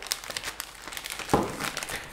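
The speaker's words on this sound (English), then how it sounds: "Now place your phone in the plastic bag," Plastic bag crinkling as a phone is placed inside, close rustling with a louder crumple midway, continuing softly to the end.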